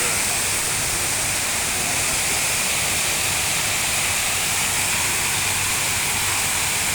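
Water from an artificial fountain at a heritage resort and spa pours in a steady, dense rush, a continuous close hiss with no breaks and no voices over it.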